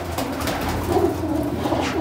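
Low, throaty cooing of racing pigeons close by in a loft, a couple of rolling coos over a murmur of background noise.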